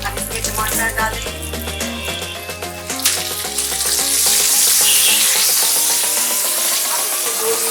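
Chopped tomatoes go into a hot kadhai of oil and ginger while cooking kadhai paneer at home, setting off a loud, steady sizzle that swells after a few seconds and carries on over soft background music.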